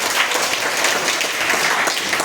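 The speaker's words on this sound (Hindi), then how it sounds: "ताली बजा दीजिए इनके लिए" At a school quiz competition, a classroom crowd gives a student a short burst of steady, dense clapping that fills the room for a couple of seconds.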